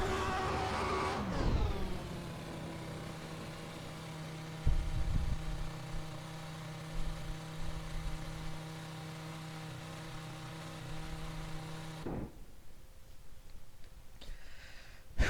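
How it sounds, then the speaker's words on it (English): A Ferrari F2004 Formula 1 engine in a racing video game holds a steady, buzzing drone bouncing off the pit limiter, then cuts off abruptly, leaving a quieter idle-like hum at the end. "Bouncing off the pit limiter there. Sounds pretty cool."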